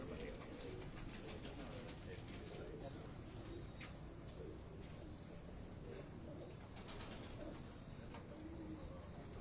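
Tony and Teddy breed pigeons cooing on a rooftop in Johar Town, Lahore, soft repeated coos and faint chirps under a constant wash of outdoor noise, with voices talking in the background.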